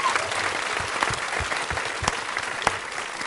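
An audience at a screening of the Battlestar Galactica finale claps steadily, a dense wash of applause with a few sharper individual claps.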